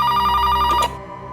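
A telephone bell rings with a steady, bright repeating trill, loud and close, then cuts off abruptly partway through.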